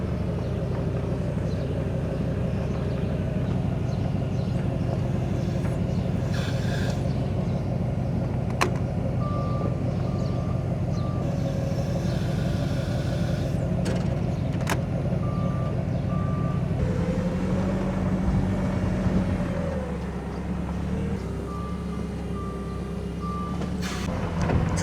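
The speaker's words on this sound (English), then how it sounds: "It's really hard to run a forklift one-handed." A forklift's reversing alarm beeps in short repeated bursts over a steady low engine rumble, close by outdoors near a farm shop, the beeping stopping and starting several times.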